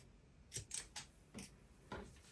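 Scissors snip through ribbon while making Christmas page tabs: a quiet, close series of about five crisp cuts, some in quick pairs, over a near-silent room.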